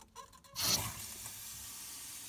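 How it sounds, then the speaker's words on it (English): Water from a tap rushing into a Kohler K9 steam generator under repair, starting abruptly after a faint click and continuing as a steady, moderately quiet hiss. "So I'm going to turn on the water"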